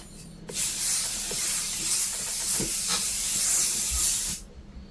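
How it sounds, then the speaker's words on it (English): A can of Devro Stronghold hairspray releases one continuous, close hissing burst that lasts about four seconds and then cuts off cleanly. "best hairspray ever, Devro Stronghold"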